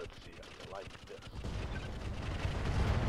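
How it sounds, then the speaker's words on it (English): A nuclear-style blast in the video game Roguetech erupts after a few light pops, swelling into a deep rumbling roar that grows louder toward the end. "I love that nuclear explosion."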